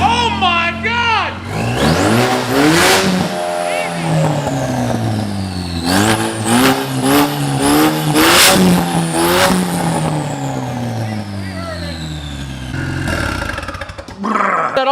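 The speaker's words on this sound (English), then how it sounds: "That almost makes me feel bad about pulling this little engine out, because it runs." A running engine in a Mustang revved repeatedly, its pitch climbing and falling in a series of quick throttle blips, loud and close, with people talking over it.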